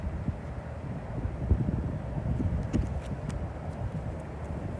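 Wind gusting outdoors as steady rumbling buffeting on the microphone, with scattered soft knocks and thuds rising through it, moderately loud and continuous throughout.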